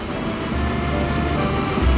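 A train arrives in the railway-building video game Transport Fever 2, a constant rolling rumble of rail cars with a deep low drone that swells slightly near the end.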